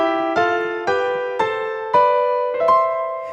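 Piano playing right-hand power thirds in C, each a third with an added octave above, struck six times in a steady stepwise sequence, every chord ringing on into the next, close and alone.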